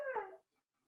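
A dog gives one short, close whimper, a tonal whine that fades within half a second, followed by near silence.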